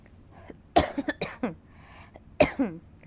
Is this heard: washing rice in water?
no